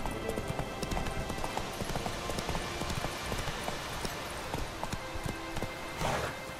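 Horse hooves clip-clop steadily in The Witcher 3 video game, a continuous rhythmic trot at moderate loudness over a dense background of ambient game sound, with no talk.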